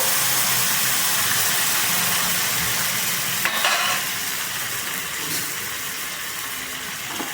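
Curry leaves and drumstick dal charu frying in a pan give off a loud, steady, close hiss of sizzling oil, with a couple of brief metallic clinks and a slight drop in intensity partway through.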